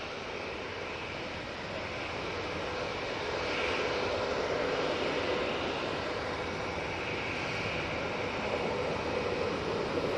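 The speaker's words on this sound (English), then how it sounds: "That TUI Dreamliner was off to Etihad" TUI Boeing 787 Dreamliner jet at Manchester Airport, a steady broadband engine roar holding at a constant level throughout, with no voices.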